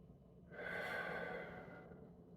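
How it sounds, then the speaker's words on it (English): One slow, deep breath drawn in softly and close during a calm workout cooldown, a single airy swell that rises and fades over about two seconds in an otherwise quiet room. "Just take these 2 more breaths."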